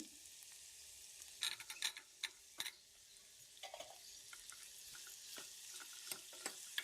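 Sliced cucumber and onions fry quietly in oil in a pan. A soft, faint sizzle runs under irregular spoon scrapes and clicks, with a brief cluster of stirring taps.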